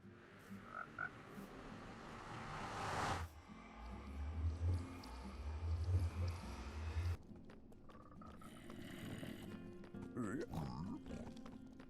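Frogs in Minecraft croak in low, repeated grunting bursts amid a busy game soundscape, moderately loud, with shifting ambient noise around them.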